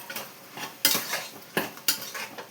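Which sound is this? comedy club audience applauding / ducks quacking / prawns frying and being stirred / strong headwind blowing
prawns frying and being stirred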